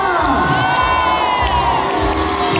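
A holiday camp crowd at a Butlins Skegness game show roars with cheers, high children's shouts dominating a loud, continuous burst of cheering.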